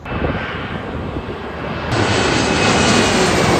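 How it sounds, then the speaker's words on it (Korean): A passenger airplane passes along a coastal walking trail on Jeju Island, its broad engine roar steady and fairly loud, swelling even louder in the second half as it draws nearer, with no talking. "지금 비행기가 오고 있어요."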